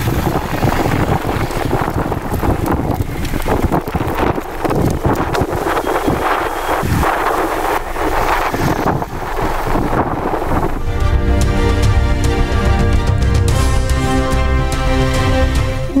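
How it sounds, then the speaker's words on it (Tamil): Loud wind from a sudden whirlwind at a sports ground in Thanjavur roars and buffets the microphone without pause, shifting to a steadier, harsher rush near the end. "தஞ்சையில் உள்ள ஐடிஐ விளையாட்டு மைதானத்தில் திடீரென சுழற்றி அடித்த சூறாவளி"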